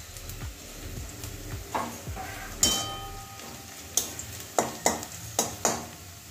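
Chopped garlic frying with cinnamon pieces and cloves in a pan, a soft steady sizzle broken by sharp metallic clinks and scrapes of a spatula striking the pan at uneven intervals.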